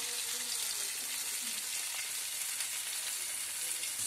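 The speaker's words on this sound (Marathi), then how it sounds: "मस्तपैकी चिंगळा भाजतं" Prawns sizzling as they roast in a pan on a wood-fired clay stove, a steady close crackling hiss that holds evenly throughout with no talking.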